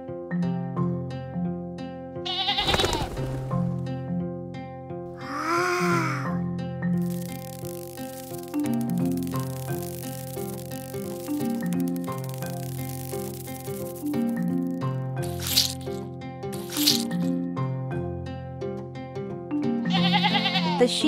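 Animated sheep bleating several times in a cartoon farm scene, short wavering calls rising over continuous background music.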